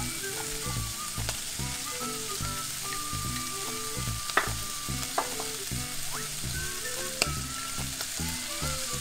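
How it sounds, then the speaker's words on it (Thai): Fried garlic stirred into a pan of sizzling rattlesnake meat, a loud, steady frying hiss close up with repeated rhythmic scraping and tapping of a spatula against the pan, no talking. "เรามาใส่กระเทียม ลงไปอันนี้เป็นกระเทียมเจียวแล้วนะ"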